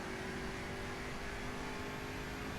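Mercedes-AMG GT engine droning steadily at high speed in The Crew racing game, a continuous even roar with constant tone throughout, no talking.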